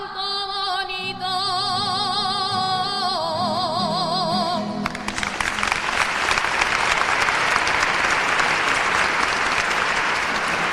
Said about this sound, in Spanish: Los aplausos lo dicen todo